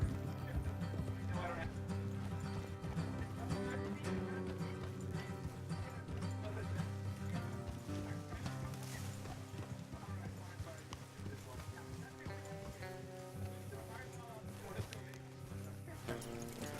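Steady clip-clop of horse hooves in Red Dead Redemption 2 under a constant bed of music and game ambience, moderately loud throughout with no pauses.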